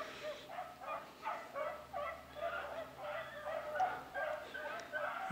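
Six beagles bay hard on a rabbit trail, rhythmic repeated howling barks from a pack some distance off in open country, with quiet talk mixed in.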